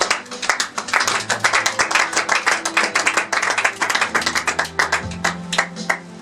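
A church congregation claps in a fast, continuous rhythm to acclaim Jesus. The many hands sound close and loud, with a low hum underneath.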